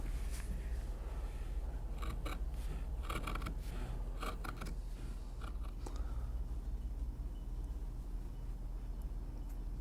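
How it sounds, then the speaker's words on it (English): Shears cutting through material for a steampunk top hat give a quick cluster of crisp snipping clicks early on, faint over steady low background hum, then fade to quiet. "to cut it with the shears rather than a knife"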